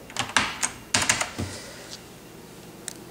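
Quick bursts of sharp clicks from typing on a Focus FK-2001 clicky keyboard, bunched in uneven runs and trailing off into a few sparse taps, close and fairly crisp with no talk.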